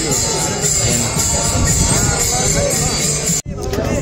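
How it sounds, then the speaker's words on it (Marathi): A dense crowd of devotees fills the palkhi procession at Lonand, a continuous outdoor hubbub of many voices and movement, with a brief dropout near the end. "एवढी गर्दी आहे"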